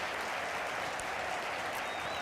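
A dense, steady wash of stadium applause from a large crowd at an FC Barcelona versus Valencia La Liga match, loud and continuous throughout with no voices standing out.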